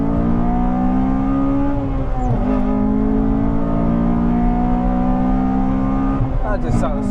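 A Honda Civic Type R FD2 with a Toda exhaust revs loud and close, a sustained raspy engine drone that dips briefly as it shifts, then climbs again near the end.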